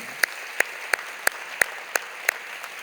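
Rhythmic clapping in thanks to a church women's mission society at a Bible college semester gathering, roughly seven sharp, evenly spaced claps over a faint wash of crowd noise.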